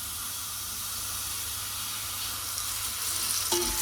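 Cooking oil heating in a pan for cauliflower and potato pulao, a steady close sizzle and hiss with a brief clink near the end.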